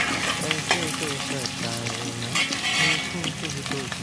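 Onions fry in a pan for paneer dum biryani, a steady sizzle under frequent clattering stirs, with a voice talking over the cooking.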